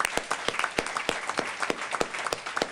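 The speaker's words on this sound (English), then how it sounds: "Let's give a round of applause for all our young graduates." Applause for young graduates at a New Orleans gathering, a small group clapping in distinct, rhythmic sharp claps, close and even in pace across the stretch.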